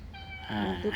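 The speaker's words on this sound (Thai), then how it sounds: "แมวอ้วน แมวที่นี่เยอะนะผม" A cat meows once at a Buddhist temple in Nan, Thailand, a short, clear, close cry that rises and then drawls, with no other sound around it.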